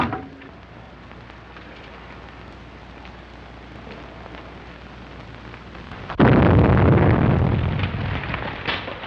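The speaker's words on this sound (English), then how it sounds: "Explosion in 93 Madeira Drive." An explosion in an old black-and-white Hollywood crime film set at 93 Madeira Drive: a low, hissing murmur builds slowly before a sudden loud burst erupts, followed by a rumbling, crackling roar that gradually fades.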